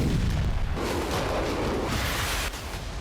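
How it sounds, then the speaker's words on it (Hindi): Artillery fire in war footage from the Russia–Ukraine front, heavy low booms rolling and overlapping into a dense, rumbling barrage that stays loud throughout. "रूस आर्टिलरी से घेर कर हमले कर रहा है।"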